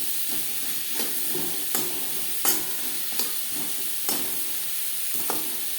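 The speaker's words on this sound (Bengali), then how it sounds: "তিন 4 মিনিট পেঁপে হালকা করে ভেজে নেব।" Papaya pieces with turmeric and salt frying lightly in a pan over medium flame, a constant sizzling hiss broken by several sharp scraping stirs of a spatula, close and steady with no talk.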